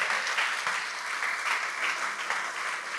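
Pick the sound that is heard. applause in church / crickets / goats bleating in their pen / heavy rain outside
applause in church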